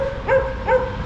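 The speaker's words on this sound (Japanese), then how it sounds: "犬が。" A dog on a street in the Turkish resort town of Antalya gives two short barks about half a second apart, moderately near over steady low street noise.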